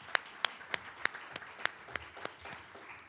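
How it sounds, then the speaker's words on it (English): Guests at a chamber of commerce lunch clap in a slow, even rhythm, with distinct claps about a third of a second apart. The claps are fairly near and crisp and fade slightly over a few seconds. "One big round of applause."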